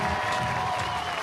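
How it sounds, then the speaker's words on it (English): Applause from a high school football crowd greets the combined LaGrange and Callaway High School bands on the field, a steady dense wash of clapping heard from the broadcast booth throughout. "That applause is for the combined bands of LaGrange High School and Callaway High School out on the field to present the national anthem"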